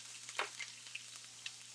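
Chickpea curry ingredients fry softly in a hot pan, giving a faint, steady sizzle broken by a few sharp pops and crackles.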